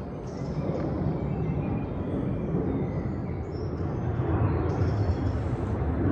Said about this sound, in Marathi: एरोप्लेनचा पण आवाज येतोय